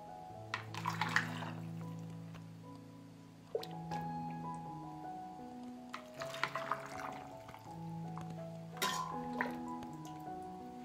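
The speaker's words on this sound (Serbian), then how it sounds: "i sada sipamo preliv" Brine dressing is poured into glass jars packed with bacon, making soft gurgling, dripping and filling sounds in a few short pours, quiet and close.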